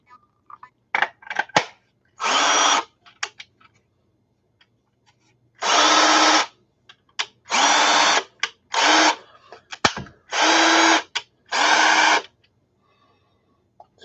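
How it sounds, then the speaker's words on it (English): A cordless drill whirs in several bursts of one to two seconds with short pauses and clicks between them, close and loud, in a quiet room. "So let's see what this drill sounds like."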